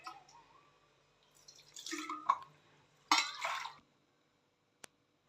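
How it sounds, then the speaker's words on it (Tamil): Water trickles and drips into rice flour batter for a Tamil evening snack, a few soft splashy pours with brief pauses and a faint final drip, close and quiet. "இன்னும் கூட தண்ணி ஊற்றிக்கலாங்க"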